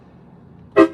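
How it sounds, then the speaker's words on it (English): A single short blast from a 120-decibel four-chime train horn, loud and close, sounding briefly after quiet rumbling background noise. "I'm gonna test out my train horn."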